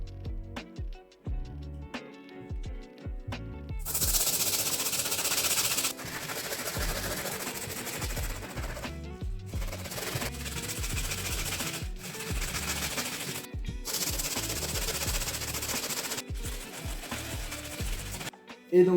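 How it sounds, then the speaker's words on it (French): A stiff brush scrubs the white sole of a Jordan 1 Mid Obsidian sneaker in steady, loud, hissing back-and-forth strokes that come in long runs broken by brief pauses, with background music underneath. "maintenant on va prendre la brosse solide et on va venir s'attaquer à toute la partie blanche"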